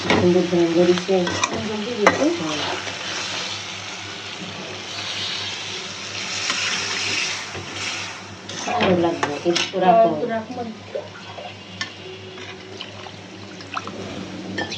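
Bitter gourd (karela) frying in oil and being stirred in a pan, a steady sizzle broken by scraping spoon strokes and clinks of metal against the pot, with a low hum underneath.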